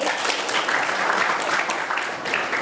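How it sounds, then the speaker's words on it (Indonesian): A classroom of students applauds a classmate named Sandi, a dense, steady patter of many hands close by that runs evenly for the whole stretch. "Tepuk tangan dong untuk Sandi"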